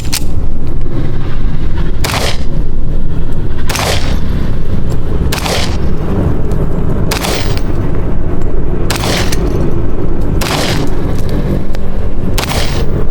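A Colt Series 80 1911 .45 pistol fires about eight loud, booming shots at a steady pace of roughly one every one to one and a half seconds, each with a heavy echoing tail.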